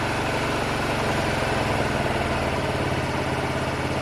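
A Honda Varadero 125 motorcycle engine being tuned after a carburettor rebuild, held at half throttle with a steady, loud, continuous drone and a slight rise and fall in pitch, close up with no talking.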